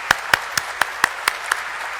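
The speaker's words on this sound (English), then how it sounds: "Big applause, big applause." Clapping marks a stock exchange listing ceremony for Nykaa. About seven sharp, evenly spaced claps come in a brisk, steady rhythm, close and distinct rather than a blended crowd roar.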